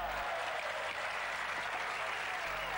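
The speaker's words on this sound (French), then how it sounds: "tout le monde applaudit" A crowd at a 1995 Marseillaise pétanque match applauds, a steady, fairly faint burst of clapping heard from a distance throughout.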